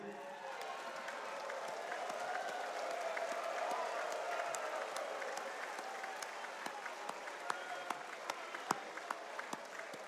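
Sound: standing audience applause, thunderous

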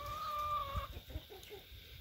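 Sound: large chicken clucking

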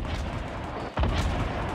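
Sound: rocket firing in a video game

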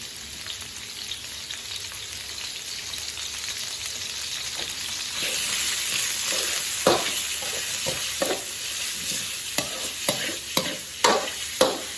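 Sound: pork belly being stir-fried in a pan

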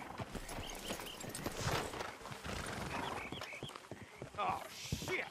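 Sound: horses in the video game Red Dead Redemption 2

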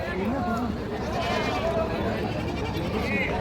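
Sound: sheep bleating at Bagewadi sheep and goat market

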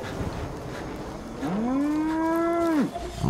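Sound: cows mooing in the video game Far Cry 5

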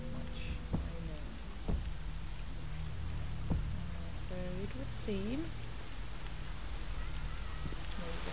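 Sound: rain falling in a video game

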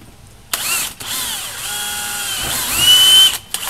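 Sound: drilling golf cart seat with 17/64 drill bit

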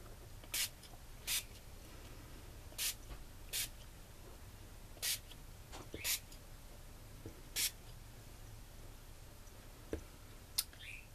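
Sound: Dylusions ink spray being sprayed

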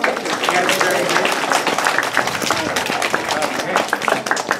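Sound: audience applause for the volunteers

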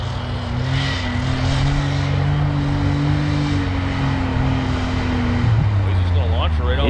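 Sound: 500hp Maverick X3 engine revving hard

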